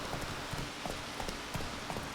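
Horse hooves clip-clop in The Witcher 3, a steady trotting rhythm of soft thuds repeating every half second or so over a constant background wash.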